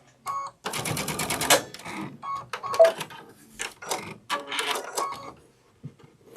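A sewing machine stitches a sunflower wall hanging in bursts, its rapid needle chatter running for a few seconds, pausing, then starting again in shorter runs, close and clear with no talk.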